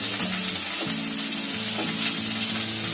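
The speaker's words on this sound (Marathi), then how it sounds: "आता शिमला मिरची पण आपण 1 मिनिट फिरवून घ्यायची." Capsicum and onion stir-fried for chili chicken gravy, a steady loud sizzle with repeated scraping stirs of the spatula at a regular rhythm, close up and without talk.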